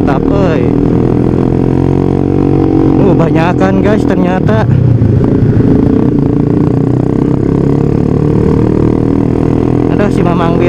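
A group of touring motorcycles rides past, including a Ninja, with loud continuous engine roar and several rising revs and passing whooshes close by, while someone talks over the noise.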